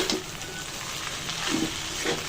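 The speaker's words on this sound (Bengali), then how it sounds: "ভালো করে নাড়াচাড়া দিয়ে মিশিয়ে নিয়েছি।" Chicken pasta being stirred and mixed in a hot pan, soft scraping strokes over a low sizzle, with a few brief swishes of the utensil.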